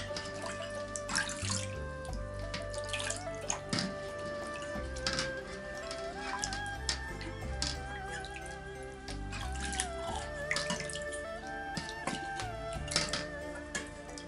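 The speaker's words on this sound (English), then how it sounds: "So I use the warm water. This is the warm water." Warm water runs from a tap while silver jewelry is washed, a steady splashing flow mixed with drips, heard under background music with bass and melodic tones.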